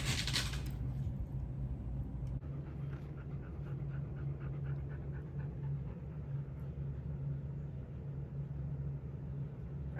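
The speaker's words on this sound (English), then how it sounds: "the dogs are panting" Dogs panting indoors on a hot day in an 81-degree room, a steady close rhythmic breathing that runs through the whole stretch over a constant low hum.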